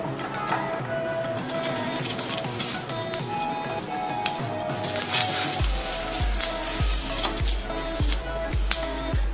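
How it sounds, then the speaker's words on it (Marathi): Green chillies roasting in a deep, hot iron pan, giving a steady sizzle and crackle with sharp pops and a string of low, regular thumps in the second half. "आपण मिरच्या घालून घेऊया याच्यामध्ये"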